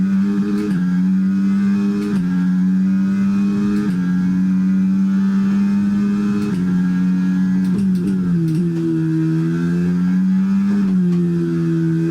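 F1 car engine in F1 23 at the Miami Grand Prix, loud and close, revving high after a downshift, its pitch rising and falling through gear changes with steady onboard roar and no talk.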